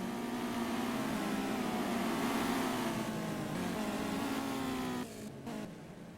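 Simulated sprint cars race around the Chili Bowl Nationals dirt track in a video game, their engines blending into a continuous loud drone with a steady pitched whine that drops off abruptly near the end.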